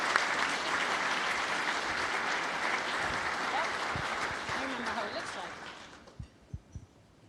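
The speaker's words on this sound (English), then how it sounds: "Let's give a big round of applause for So Young Yu" Audience at the Rolex LPGA awards ceremony applauds in a steady wash of clapping that fades out with a few final claps.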